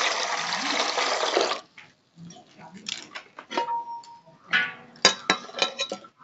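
Palash flowers being washed by hand in water, with a steady splashing rush at first, then intermittent swishes, drips and light clinks of a vessel, close and fairly loud.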